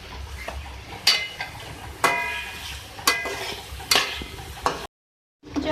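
Half a kilo of chicken fries in a karahi with green chillies, a soft sizzle broken by regular, sharp scrapes of a spoon against the pan, roughly once a second, before a brief silence.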